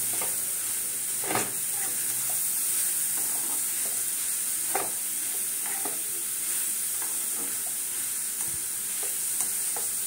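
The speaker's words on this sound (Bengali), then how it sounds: "গ্যাসটাকে সিমে করবে, কড়াতেই নাড়িয়ে নেবে" Paratha mixture is stirred in a kadai (wok) over a low gas flame, giving a steady soft sizzle with occasional scraping strokes of the spoon, close and moderately quiet, without speech.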